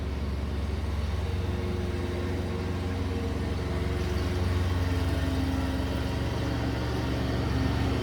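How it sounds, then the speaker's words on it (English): A low, steady lawn mower engine drone hums continuously in the background, muffled and somewhat distant, with no talking. "Oh, excuse the background noise, you guys. They're mowing their lawn."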